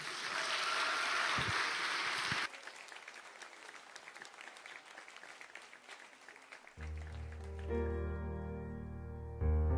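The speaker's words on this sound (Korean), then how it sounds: "나오실 때 우리 큰 박수로 응원하겠습니다." A church youth service congregation claps loudly for about two seconds, then the sound drops to a quieter room wash before sustained musical tones come in.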